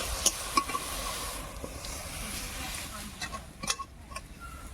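Fenugreek greens with turmeric and slit green chilies fry in a pan, a soft continuous sizzle with occasional clicks of stirring, partly under talk.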